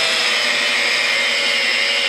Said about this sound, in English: I'm gonna use my rotary and some wizards.